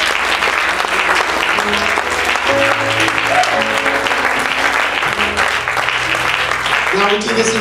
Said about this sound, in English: Let's give him a round of applause tonight